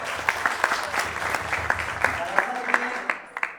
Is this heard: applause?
yes